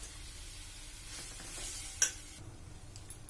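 Tomatoes and garlic sautéing in a pan for a no-onion kara chutney produce a quiet, steady sizzle with light stirring and one small click partway through.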